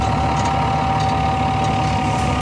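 Patria XC-360 armoured modular vehicle engine just started and idling, a loud, steady low diesel rumble with a constant whine, heard alone from close up.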